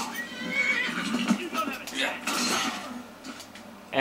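A horse whinnies loudly and repeatedly as it is killed in the Skyrim Dawnguard video game, the cries rising and falling over busy game sound effects.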